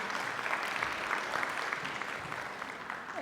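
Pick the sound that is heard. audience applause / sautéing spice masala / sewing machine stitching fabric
audience applause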